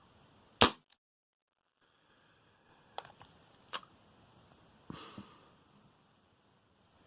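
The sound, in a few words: ASG Dan Wesson airsoft revolver firing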